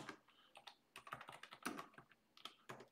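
Fast, uneven typing on a computer keyboard, close and fairly quiet, a flurry of light key clicks in short bursts with brief gaps and no talking.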